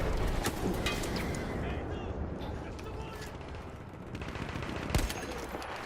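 Gunfire in a First World War shooter game, with bursts of shots and blasts over a dense battle din, while a player talks over it.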